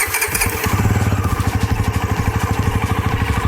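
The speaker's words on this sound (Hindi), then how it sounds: "यहाँ ऐसा कुछ साउंड करता है ये इंजन अपने आइडल पे।" A 2025 Bajaj Pulsar NS400Z motorcycle idles close by, its engine thumping in a steady, even pulse after a brief rough start, loud and alone.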